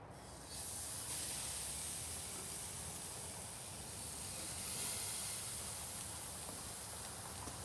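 Chuck eye steaks laid over the indirect side of a Weber Smokey Joe charcoal grill give off a steady, faint, broad sizzle and hiss that starts abruptly and holds on without a break.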